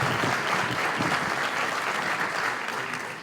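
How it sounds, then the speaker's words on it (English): A room full of people applauding at a chamber of commerce breakfast, steady sustained clapping from start to finish that gradually tapers off near the end. "let's give Jay from South Lake TV a round of applause"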